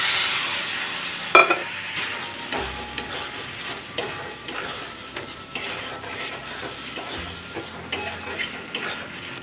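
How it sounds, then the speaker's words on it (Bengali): Fried ridge gourd pieces tipped into a pan and stirred, with a steady low sizzle under scattered utensil scrapes and clicks, one sharper clatter early on, no talking. "এখন এর মধ্যে দিয়ে দিচ্ছি ভেজে রাখা ঝিঙেগুলো"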